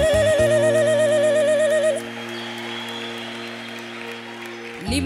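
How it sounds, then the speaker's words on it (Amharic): A worship-service congregation applauds over sustained keyboard chords, loud at first. The clapping thins after a couple of seconds into a softer spread-out patter while the music keeps droning underneath. "ጭብጨባ ይብዛለት።"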